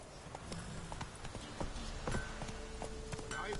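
The horse Roach trots along in The Witcher video game, a brisk, regular clip-clop of hooves close up, steady and rhythmic throughout.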